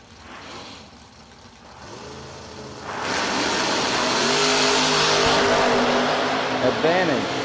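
Drag racing cars launch down the strip at a race event, engines building from a low idle rumble into a loud sustained roar with rising revs near the end, close and dominant, while an announcer talks over the start.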